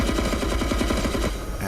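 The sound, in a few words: helicopter door gunner firing machine gun in DCS video game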